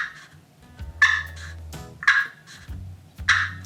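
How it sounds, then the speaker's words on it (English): Three short, sharp clucks from a glass friction turkey call, each a bright raspy chirp set apart by about a second of quiet, close and clear with no voices. "But that's a cluck."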